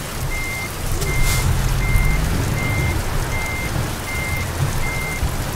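A truck's reversing alarm beeps at a steady, regular pace over a low engine rumble and the hiss of rain, in the video game American Truck Simulator.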